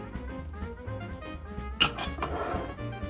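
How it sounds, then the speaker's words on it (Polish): Metal utensil clinking and scraping in a frying pan while spring roll filling is stirred, a sharp clink near the middle followed by softer rustling scrapes over a low background hum. "Całość dokładnie mieszam"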